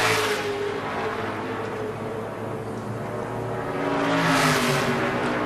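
A NASCAR Sprint Cup stock car, the number 83, lapping Richmond during qualifying: a steady engine drone that swells loudly as the car sweeps close near the end.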